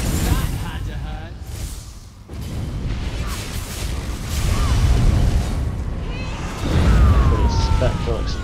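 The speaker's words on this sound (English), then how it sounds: "Pretty spectral explosion." A spectral explosion from a Magicka Templar's attack in Elder Scrolls Online booms through continuous loud game combat, with rumbling bursts and swelling impacts layered over music and effects.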